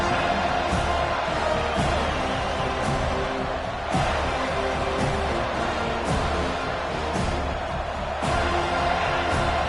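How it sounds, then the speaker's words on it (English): Stadium crowd at a college football game against LSU, a loud, continuous roar of cheering and whoops with several sharper swells, heard from within the stands. "This crowd bringing an ear-splitting welcome to their visitors."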